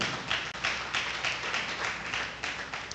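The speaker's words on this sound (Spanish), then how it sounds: "Dale un aplauso al Señor, adóralo." A church congregation claps in praise during a worship service, with a dense, steady wash of hands beating in a loose, pulsing rhythm and no speech over it.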